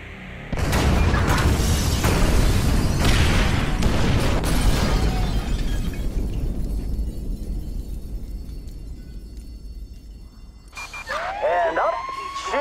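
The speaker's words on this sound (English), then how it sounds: "trigger the fire bombs, Frank" Fire bombs going off in GTA 5: a dense, roaring run of loud blasts for about five seconds fades into a rumbling tail, and wailing emergency sirens rise near the end.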